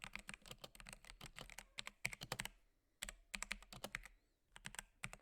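Rapid, uneven keystrokes on a cheap 30-dollar keyboard dampened with paper towels, clacking in close bursts with short pauses between runs of typing.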